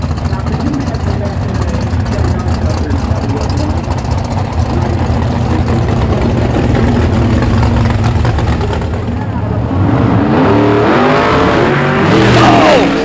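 A drag race between a red 1957 Chevy and another big-time car capable of running over 200 mph, loud continuous engine roar with tire noise, an announcer talking over it.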